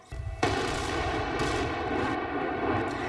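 A controlled blast brings down a landslide near Perarolo in the Veneto, a sudden loud boom followed by a sustained rumbling roar that lingers for several seconds, with no talk.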